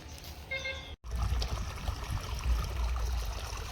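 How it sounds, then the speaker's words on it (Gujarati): Irrigation water runs through a field channel on a farm, a steady, rushing gurgle with a low rumble. It continues evenly after a brief cut near the start. "આજે આખો દાડો પાણી ચાલશે."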